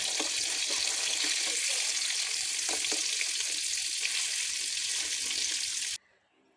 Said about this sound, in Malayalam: ചിക്കനൊക്കെ നല്ലോണം ഒന്ന് പൊരിഞ്ഞേക്കട്ടോ.